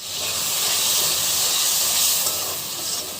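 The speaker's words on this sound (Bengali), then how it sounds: "মশলাটা এখানে কষিয়ে নিচ্ছি, কাতল মাছ ভুনা করব।" Spices frying in a pan for a village-style katla fish bhuna, a steady close sizzling hiss that holds evenly for a few seconds with no voices.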